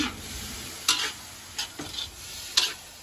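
Wild mushrooms frying in a pan are stirred in a few distinct scraping strokes over a steady, soft sizzle, close by and with no talk.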